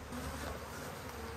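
A honeybee swarm clustered around its queen on a person's arm makes a dense, steady buzzing. The hum is close and continuous throughout, with no voices.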